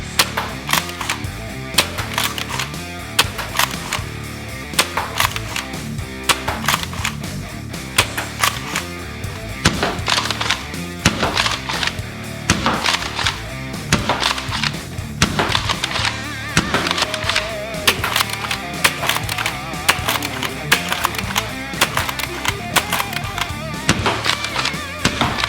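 Adventure Force Nexus Pro dart blaster firing at a life-size person as target: a dense run of sharp, loud pops and snaps repeating rapidly throughout, with no talking.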